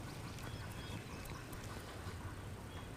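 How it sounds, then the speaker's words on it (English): Herons call near a rookery with harsh, distant squawks repeating faintly beneath a steady, broad rushing wash of outdoor noise. "Those herons up there yakking."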